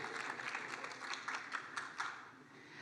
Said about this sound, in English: Yeah, you can clap for the Muppets